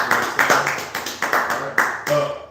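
A church congregation at a Sabbath service claps in unison, about eight sharp, evenly spaced group claps in a steady rhythm, close and loud, with a voice sounding between them.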